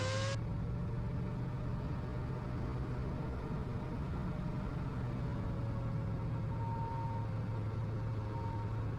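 A light aircraft engine throttled back to reduced RPM on final approach drones steadily and loudly from close by, holding an even, unbroken tone throughout with no talking.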